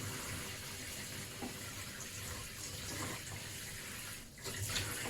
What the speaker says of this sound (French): une eau à température ambiante en fait qui arrive directement de votre poire de douche